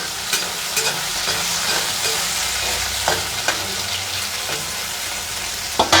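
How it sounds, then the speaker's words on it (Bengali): Spiny gourd (kakrol) fries in a pan with a loud, continuous sizzle, broken by irregular sharp scrapes and taps of a spatula stirring the pieces. "কাঁকরোলটা ভেজে আমি পনিরটা ভাজবো"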